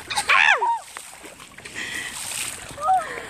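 Feet stomp and splash through rain puddles outdoors at night, with a couple of wet slaps and splatters between excited high-pitched voices shouting and squealing nearby.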